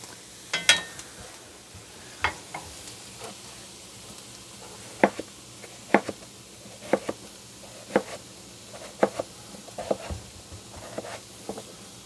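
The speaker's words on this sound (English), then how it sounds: "We'll give these onions a stir here." Onions cooking in a pot for soup being stirred, a soft sizzle under a series of irregular scraping and tapping utensil strokes against the pot, close and without talk.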